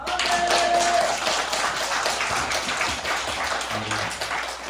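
A church congregation at a Wednesday evening service claps together in praise, loud and close, a dense clatter of hands with faint tonal sounds beneath.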